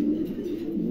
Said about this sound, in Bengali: দুটো কবুতরই মাশাআল্লাহ খুবই চমৎকার